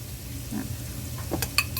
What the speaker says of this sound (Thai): เราก็จะนำลงไปผัดค่ะ ผัดได้สามเกลือหอมค่ะทุกคน